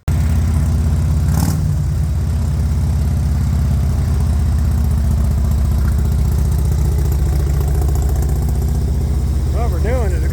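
A motorcycle engine that has just been brought back to running after three months of repairs idles loudly and close at a steady low rumble, with a brief sharper burst early on and some variation near the end.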